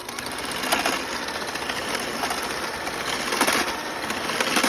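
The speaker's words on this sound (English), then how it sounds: "And now we will give these two a mix." Sugar and an egg being mixed together for blueberry muffin batter, heard as a steady, even whirring that runs without a break for several seconds, fairly close and with no talking.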